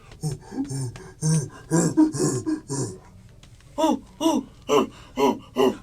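A voice imitates a giant gorilla, making deep, slowed and lowered grunting huffs in two bursts, a cluster of rough vocalizations, a pause, then five evenly spaced heavy grunts.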